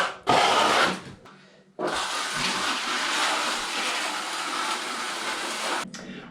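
A plastering trowel scrapes and smooths a waterproof shower membrane bedded in tile adhesive, giving a loud, close rasping burst, a short pause, then a long continuous scraping stroke.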